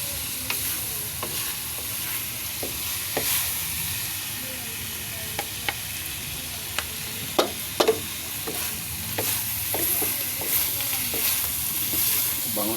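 Meat frying in its own rendered fat gives a steady close sizzle, broken by scattered sharp pops and the scrape of stirring, with no voices over it.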